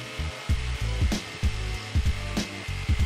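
A jigsaw cuts through a wooden skateboard deck in short, rhythmic bursts of buzzing, rasping strokes, close up and with brief pauses between passes.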